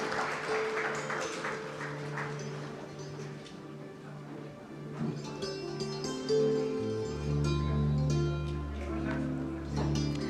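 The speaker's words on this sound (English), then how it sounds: "Please give a big round of applause for Kumari Garu." Audience applause breaks out for a donation at the NTR Trust 29th Foundation Day celebrations, a steady wash of many hands mixed with voices, with sustained musical tones rising in the background later on.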